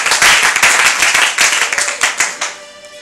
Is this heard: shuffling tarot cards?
no